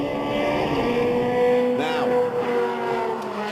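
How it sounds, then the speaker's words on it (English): Ferrari 360 Challenge Stradale V8 engine revving loud and close, a sustained high mechanical howl with a quick rising and falling rev partway through, no talking over it. "That was specifically the Ferrari 360 Challenge Stradale, best engine sound of the year."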